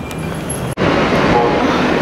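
Loud rumbling rush of a New York City subway train in motion, a broad roar of wheels and track noise after a brief cut, close and continuous.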